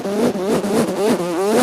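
A voice imitates a motorcycle with a continuous revving vroom that rises and falls in pitch several times, loud and close, with no other sounds.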